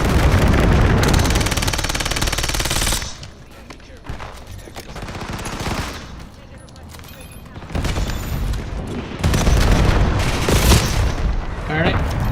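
Gunfire in Call of Duty Black Ops 7 on the Nuketown map, dense loud bursts of automatic shots and booms in heavy stretches with quieter gaps between, with a voice talking at times.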